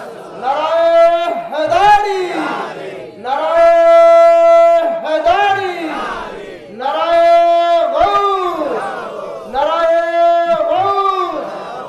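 A crowd at an Islamic religious gathering chants loudly in unison in response to the takbir call, four long rhythmic shouted bursts separated by brief pauses.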